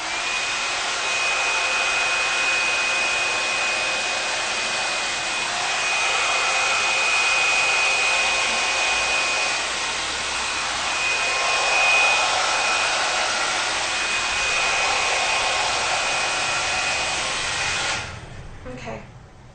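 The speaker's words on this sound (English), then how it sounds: "So I'm going to start again by just smoothing the hair down by pressing the right hand button and just take it straight through from top to length." A hot air brush blows steadily while smoothing hair from top to length, a loud, continuous airy whir with a faint thin whine, running nearly twenty seconds before cutting off near the end.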